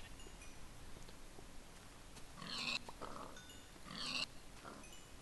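Pigs in Minecraft oink twice in short pitched grunts, clear against a quiet steady background with no talking.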